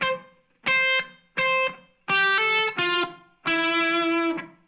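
Electric guitar plays the intro riff of Ohio by Crosby, Stills, Nash & Young, with hammer-ons on the third string: a handful of sharp, close plucked phrases with ringing sustained notes and short gaps between them, no talking.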